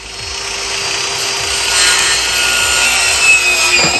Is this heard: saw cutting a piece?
yes